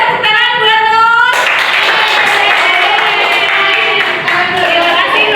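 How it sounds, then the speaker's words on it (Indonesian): An audience applauds in a school guidance class session, a dense burst of clapping that starts after a brief stretch of speech and continues steadily and loudly to the end. "Boleh tepuk tangan buat Nur?"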